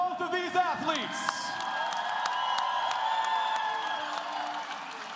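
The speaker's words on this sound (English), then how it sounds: "a round of applause for both of these athletes" A fight-night crowd applauds both fighters after a bout, scattered clapping and cheers rising under an announcer's amplified voice and lingering ringing tones.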